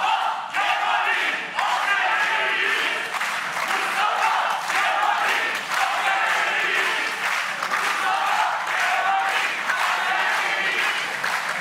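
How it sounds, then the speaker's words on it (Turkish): A television studio audience at a Turkish political debate cheers, chants and applauds in a loud, sustained roar with rhythmic clapping throughout, unbroken for over ten seconds. "yapılan tezahürata aranızda bulunan Cumhuriyet Halk Partililer de alkışlarıyla destek veriyorlar."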